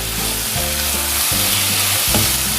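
Onions and capsicum sauté in a pan for a tofu masala stir fry, giving a steady close sizzle with repeated scraping stirs and no voices.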